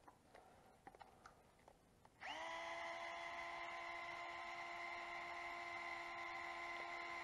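Electric screwdriver driving long screws into an RC truck differential cup protector, starting after a few faint clicks and handling taps, then holding a steady, tonal motor whine to the end.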